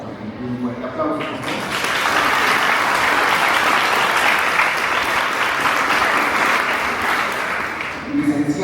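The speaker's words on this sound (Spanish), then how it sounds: "Licenciado Albino Calva Corro, un fuerte aplauso." An audience at a lawyers' conference at Universidad Alva Edison gives a speaker a strong round of applause. The clapping swells loud and sustained, while brief speech is heard at the start and again as it fades.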